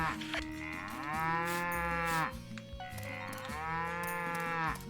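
Two long lowing moos from a farm cow in the video game Story of Seasons: Pioneers of Olive Town, each drawn out over about two seconds, close and clear with no voices.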